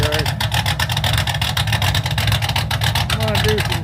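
A 1986 Mustang GT with a 289 engine idles through a full 2.5-inch exhaust with no mufflers, a loud, close, steady burbling rumble with throaty pulses that holds throughout and is joined by brief voiced sounds near the start and end.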